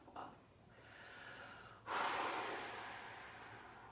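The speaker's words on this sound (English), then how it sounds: "That's me heavy breathing." Heavy, audible breathing from a person during a dry needling treatment for heel pain: a short sharp inhale near the start, then a louder sustained breathy exhale that trails off slowly, close and in a quiet room.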